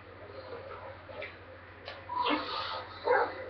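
Chop the dog in GTA 5 gives a few short barks and yips while fetching a ball, sounding at moderate distance over a quiet low game hum.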